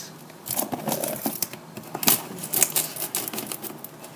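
Cardboard package being cut open by hand, giving a run of close, crisp scratchy slicing and crinkling sounds with short bursts over a few seconds, no talking.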